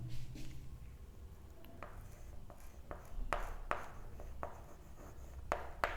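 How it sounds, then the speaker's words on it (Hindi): A question written on a classroom board in quiet, scratchy strokes and taps, some sharper than others, with no talking. "एक क्वेश्चन लिखता हूँ"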